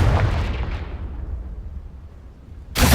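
A blasting-spell explosion goes off in a fantasy wizarding video game: a loud, deep boom that decays into a fading rumble over a couple of seconds, then a second heavy blast hits abruptly at the end.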